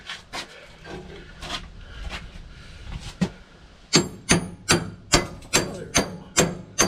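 Heavy steel pry bar levering against the steering cylinder of a wheel loader, first a few scattered scrapes and knocks, then a run of about eight sharp, evenly spaced metallic strikes close by and loud.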